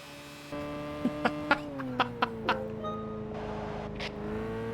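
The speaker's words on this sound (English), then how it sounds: "Listen to that engine. Listen to this car purr." A small car's engine in the racing game Gran Turismo 5 hums steadily at a low, even pitch, with a handful of short clicks over it and no talk.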